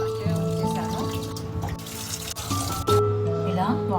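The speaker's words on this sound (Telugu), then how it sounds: "ఇలా వాటర్ ఫ్రెష్గా వచ్చే వరకు కడుక్కోవాలండి." Muddy, partly peeled ginger is rinsed under running water, a continuous splashing trickle with a few sharper splashes, beneath a steady tonal background.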